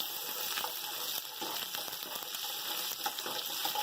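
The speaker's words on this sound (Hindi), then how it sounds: "तमाम मसाले मैंने डाल दिए, इनको थोड़ा सा फ्राई करेंगे" Whole spices sizzle in hot oil with garlic and ginger, a steady, fairly soft crackling hiss broken by small pops and stirring clicks, with no voices.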